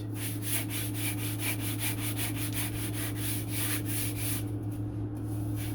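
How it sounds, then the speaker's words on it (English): A sanding block rubs back and forth across a wood sheet during a model aircraft build, in steady rhythmic strokes, close and fairly loud, with no voices. "Just sanding the whole sheet."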